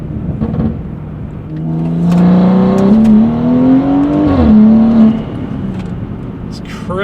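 A BMW B58 engine revs hard on rolling anti-lag, with a rising engine tone that climbs for several seconds, then drops and holds. A loud, close whine sits under it, with a few sharp crackles and some talking.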